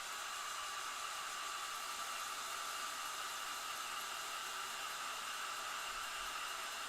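A hair dryer runs steadily and continuously throughout, a constant close airy roar with no change in pitch or level and no voices.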